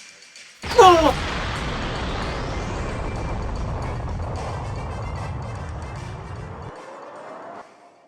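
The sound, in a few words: Fruit Dragon's Frenzy Fruit Fire attack in Yu-Gi-Oh duel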